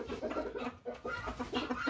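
Hens clucking on a small poultry farm, a steady run of close, overlapping clucks and cackles with no talk.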